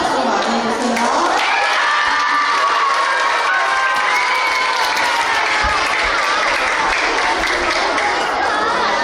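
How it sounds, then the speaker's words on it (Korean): An audience at a fifth-grade school history play gives loud, sustained applause mixed with cheering and children's shouts, a continuous roar of clapping and crowd noise close by and never letting up. "큰 박수로 맞이해주세요."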